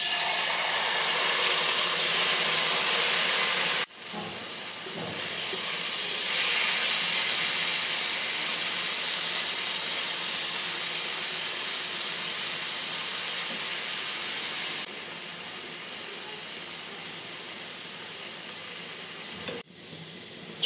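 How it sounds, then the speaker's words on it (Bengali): Chicken pieces fry in soybean oil in a pan, giving a loud, steady sizzle that runs almost unbroken, with two short dips where the hiss briefly drops before resuming. "আর এই তেলের মধ্যে আমি এখন চিকেনগুলো দিয়ে খুব ভালো করে একটু ভেজে নেব 5 মিনিট"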